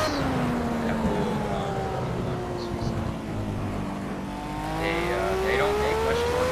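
A Formula A open-wheel race car with a small naturally aspirated engine in Project CARS at the Nurburgring, whining loudly as it dips and then climbs through the revs, with someone talking over it.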